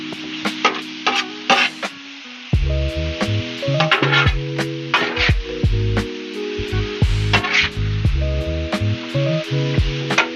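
Onions sizzle loudly and steadily on a flat outdoor grill for a stir fry, with frequent sharp scrapes and taps of a spatula against the hot surface and a low, humming background tone.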